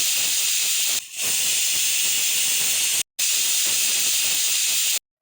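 A pressure cooker on a gas stove, holding potatoes and jackfruit for pickle, lets out a loud, continuous hiss of escaping steam, close by, with two brief dropouts, and no voices.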